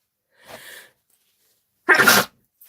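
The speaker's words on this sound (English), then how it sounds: "I'm gonna sneeze." A single person sneezes: a soft intake-like buildup, a pause, then one loud close burst, with no talking.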